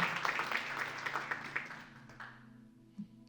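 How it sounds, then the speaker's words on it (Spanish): A church congregation applauding, a burst of clapping that fades out over a couple of seconds, fairly quiet and distant. "Denle un aplauso a Jesús si lo cree"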